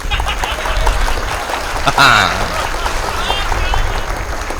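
Audience at a Hindi comic poetry gathering applauds steadily, a dense crowd clapping under a loud voice that talks over it, with a brief sharper flourish near the middle.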